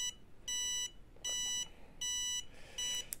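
A wireless turn signal for a scooter or bike beeps in four evenly spaced bursts of rapid electronic bleeps, with faint background noise between them.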